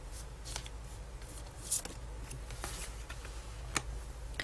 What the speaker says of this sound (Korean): 결론의 카드 바로 뽑아보겠습니다.